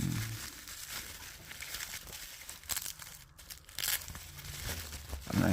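Packaging of mailed Magic: The Gathering cards being unwrapped, with steady close crinkling and tearing throughout and a few louder rips near the middle and end.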